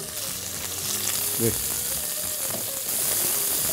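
Mustard seeds, curry leaves, green chillies and onions fry in hot oil, giving a steady, loud, close sizzle with a brief clatter of stirring partway through.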